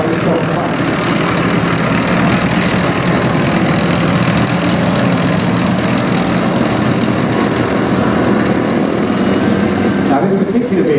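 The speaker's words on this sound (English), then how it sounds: "This particular vehicle, it's called an M548, Model 548." An M548 tracked supply vehicle, a 1960s American design, idling at a museum, its heavy engine a loud, continuous low rumble and drone throughout with some talk mixed in.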